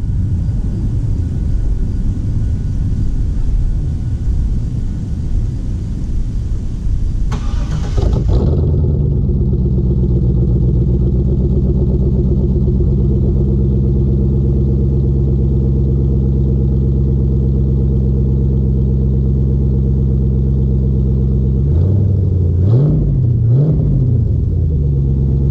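A Trans Am's LS1 V8, fitted with a 92mm throttle body and LS2 fuel rails, is cranked and catches with a loud rumble, then settles into a steady, lopey idle. A couple of throttle blips stand out near the end.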